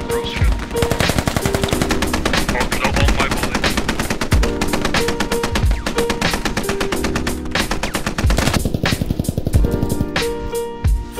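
Sustained automatic machine gun fire in the military shooter game Squad, loud rapid bursts with brief pauses, continuous over the whole stretch, with faint voice chat underneath.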